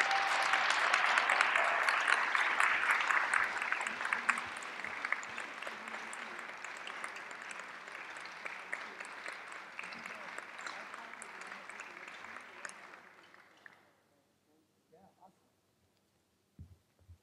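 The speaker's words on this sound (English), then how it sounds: "big round of applause for our new graduate" An audience at a graduation ceremony claps loudly and continuously, with some cheering, then the applause fades out and stops, leaving near silence with a few faint knocks.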